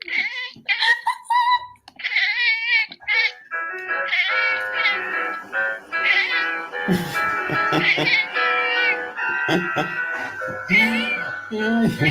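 Repeated cat meows, loud and close, some drawn out and wavering, with a few voices speaking intermittently underneath.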